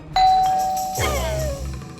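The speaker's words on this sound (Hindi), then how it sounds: "बज गई घंटी" A doorbell sounds once, a bright sustained chime followed by a lower falling tone, clear and close with a quiet room behind it.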